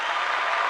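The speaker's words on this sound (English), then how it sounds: "Round of applause for everyone." Steady applause from a small group, a dense even patter of clapping heard alone throughout a brief moment.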